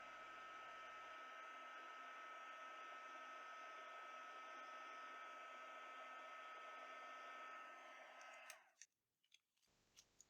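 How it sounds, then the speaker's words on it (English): A heat gun blows hot air over resin being worked into waves, giving a loud, steady whine and rush for about eight seconds before it cuts off, followed by a few faint clicks. "So I'm not really getting the effect with just the heat gun"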